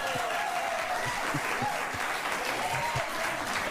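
Studio audience at a daytime talk show applauding steadily, a dense, even wash of clapping throughout with no break.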